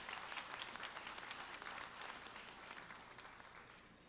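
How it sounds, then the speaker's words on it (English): An audience at a university Founder's Day convocation applauds the Clark Atlanta University Symphonic Band and accompanists with steady, dense clapping heard from a distance that slowly tapers off. "Let's give them a round of applause as well."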